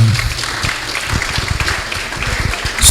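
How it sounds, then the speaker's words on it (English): An audience at a TEDx event applauds, a loud close patter of many hands clapping at once, steady and sustained through the whole stretch. "Round of applause, please."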